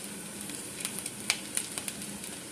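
Chicken pieces frying in oil for a crispy golden coating, giving a steady soft sizzle with small pops and crackles scattered throughout, close and fairly quiet with no talking.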